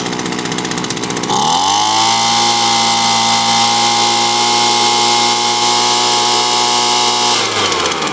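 An Echo PB-200 leaf blower engine revs up from a rough start and holds a loud, steady high whine after a carburetor throttle-screw adjustment, then drops back near the end, heard up close.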